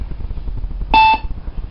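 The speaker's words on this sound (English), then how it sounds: "You will hear a beep sound once you have tapped the card" A single short electronic beep from an RFID card reader as a card is tapped, clear and close, over a low background rumble.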